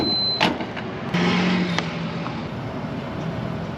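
A camper van pulls away from a gas station in Quesnel, British Columbia, with a door or window sound near the start, then steady road and engine rumble as it drives off.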